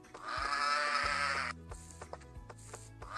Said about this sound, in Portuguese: A ovelha não cala a boca.